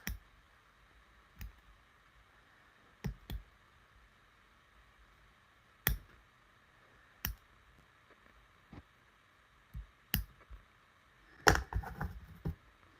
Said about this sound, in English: I'm going to use a pair of scissors, and I'm going to kind of cut the excess off.